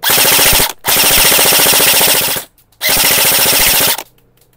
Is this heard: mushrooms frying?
no